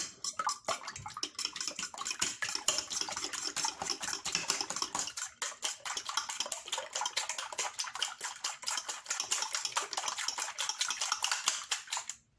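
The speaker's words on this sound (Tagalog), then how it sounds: "Then mix well." Chicken being mixed by hand with crispy fry breading produces a fast, steady run of crackly, gritty rustles and light taps, close and continuous, with no one talking.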